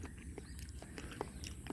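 A firm, crunchy Pisang Melakka banana being bitten, giving a few faint, close crisp crunches over quiet background noise.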